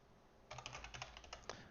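Quick bursts of typing on a computer keyboard, a dozen or so close, crisp key clicks in an uneven rhythm after a brief quiet moment, with no talking.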